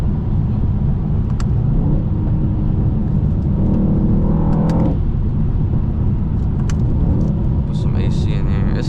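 A car driving along a road, heard from inside the cabin as a steady low rumble and whir that runs throughout at an even level.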